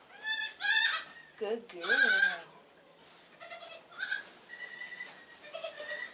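Nigerian Dwarf doe in a kidding pen bleats loudly several times at close range, with wavering cries overlapping a woman's soft, soothing talk.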